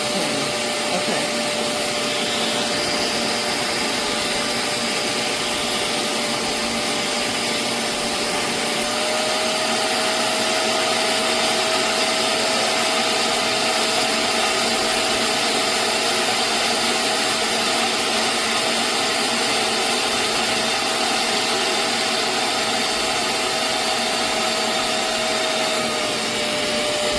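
A Hoover CleanSlate Plus carpet and upholstery spot cleaner runs with a steady, loud motor whine and suction roar, continuous throughout with a slight pitch shift partway, and no talking.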